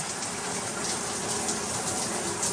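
Shower water gushes steadily from the head of a tub/shower fitted with a rebuilt Symmons Temptrol valve, a loud continuous hiss with no pauses or voices.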